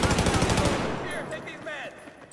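Enemy machine gun fire in Battlefield 4 on the Metro map, a loud rapid burst of automatic shots that cuts off after under a second, followed by fading echoes and faint chirping game effects.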